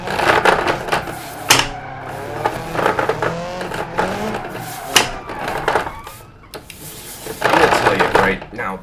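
Logitech G923 steering wheel whirring and clunking mechanically during BeamNG driving, mixed with engine and tyre sounds in uneven bursts, with a voice speaking at times.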